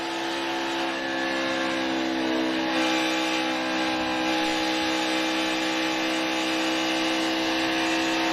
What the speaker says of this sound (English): Let's see how the car sounds down here.